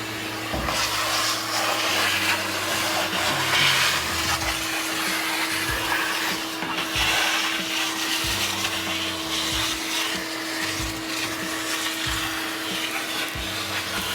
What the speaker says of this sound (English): So now I'm gonna go back to the vacuum